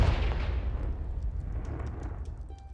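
The Confringo fire spell explodes in Hogwarts Legacy with one loud, booming blast that starts full and rumbling and then slowly fades away into a long tail.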